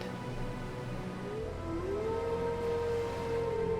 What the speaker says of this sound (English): The wolves howl their agreement